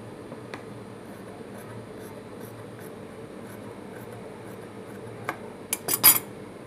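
Scissors cut through blouse lining and design fabric in a quiet sewing setting: faint snips scattered over a low background hum, then a short cluster of louder, sharper cuts near the end, with no speech.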